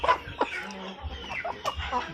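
Several backyard chickens cluck and murmur close by in short, irregular bursts at feeding time, with a soft low rustle in the background.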